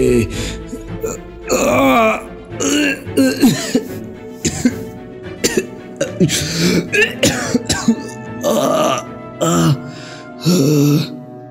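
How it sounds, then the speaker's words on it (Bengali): A cartoon figure bursts into a long run of loud, harsh coughs and throat-clearing, hacking in repeated close bouts across the scene, with a narrating voice partly heard between them. "বাবার গলা থেকে ভীষণ জোরে একটা কাশি শুরু হয়"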